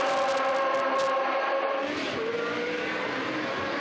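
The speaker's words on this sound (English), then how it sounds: "that engine noise reverberating through the grandstands, past the pits" Historic racing cars howl past on the Estoril circuit, a loud, high engine note with shifting pitch as one car sweeps by the pits and grandstands, followed by the continuing roar of others.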